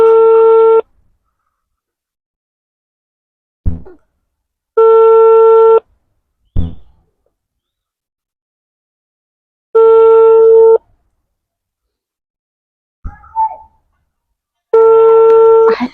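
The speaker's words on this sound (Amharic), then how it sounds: "እየጠራ ነው እንግዲህ ሁለተኛው" A phone call's ringback tone repeats as loud, steady beeps of about one second, spaced several seconds apart, with short bursts of talk or handling noise in the gaps.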